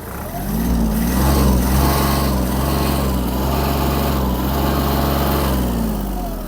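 A Kubota GL-280 mini tractor's small diesel engine runs close by, its pitch rising as it revs up and holding at a steady, loud drone.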